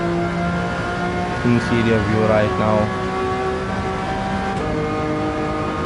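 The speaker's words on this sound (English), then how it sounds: "Car sounds absolutely incredible in this point of view." A car engine in the Gran Turismo 7 racing game hums steadily with tonal drone, rising briefly in a revving sweep midway before settling, under a voice talking.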